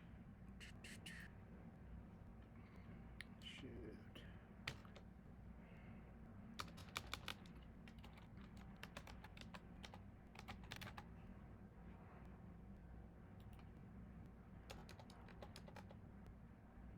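Quiet, close keystrokes on a computer keyboard come in irregular clusters and single taps over a steady low hum, while someone enters a number on a baseball card design.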